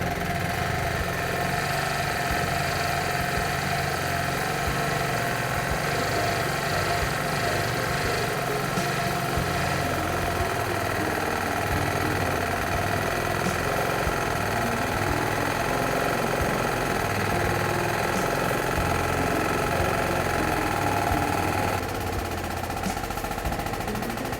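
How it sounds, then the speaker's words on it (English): A Workshop Mate press machine runs continuously while it crushes a used oil filter on its bed, producing a loud, steady mechanical drone with a rough, rattling texture that eases slightly toward the end. No speech is heard. "Another feature of the machine is crushing oil filters. Replace your used oil filter onto the bed, press the pedal"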